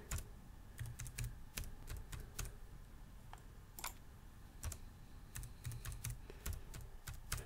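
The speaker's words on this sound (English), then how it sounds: "And then just type in a password." A password is typed on a computer keyboard, with close, quiet key clicks in quick irregular runs and short pauses, and no talking.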